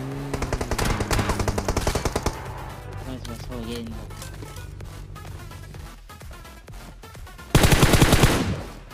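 Rapid automatic gunfire in the PUBG video game crackles in a dense burst at the start and again near the end, with quieter game sounds and a voice in between.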